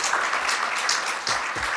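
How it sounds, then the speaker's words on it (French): Audience applause for an event team at a trade-show round table, a dense, even patter of many hands clapping at steady loudness for a couple of seconds. "je voudrais que vous les applaudissiez"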